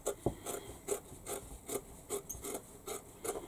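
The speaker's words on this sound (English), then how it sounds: "And now what we need to do is cut the fabric from the middle. So just trim" Scissors trimming fabric for a sewn bag, leaving a narrow seam allowance: about nine soft, rhythmic rasping snips spaced roughly evenly, close and quiet, with no talking.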